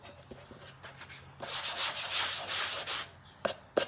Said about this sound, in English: So this is like a used 220 grit sandpaper.